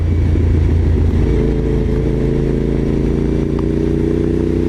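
A motorcycle engine runs loud and steady while the bike is ridden, with a deep low rumble throughout and a slight shift in tone partway. Nobody speaks.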